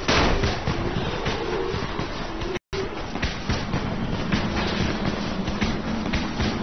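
Firecrackers going off in the Dying Light video game on Xbox: a loud, continuous barrage of rapid pops and bangs over a rumbling bed, with a brief dropout partway through and no talk.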